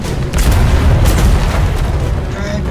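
Ship cannons in the naval game Atlas booming at ghost ships, heavy loud blasts and rumbling explosions crowding the whole stretch.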